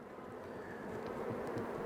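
Honeybees buzz steadily around a hive frame in a small nucleus hive during autumn preparation for overwintering, a dense continuous hum at close range with no voices.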